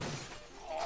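A glass pane shattering in the Back to the Future NES video game, a short bright crash of breaking glass on its own, fairly faint.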